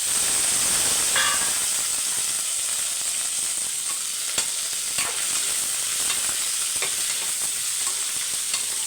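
Drumsticks stirred into a simmering pot of sambar give a steady loud sizzle and hiss, broken by a few soft scrapes and clinks of the spoon against the pan.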